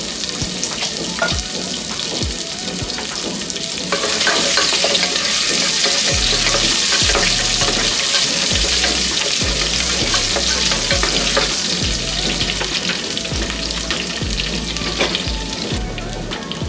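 Cumin seeds and crushed garlic sizzle loudly in hot oil, a dense continuous crackling hiss that swells partway through and holds steady, with stirring noises underneath and no talking.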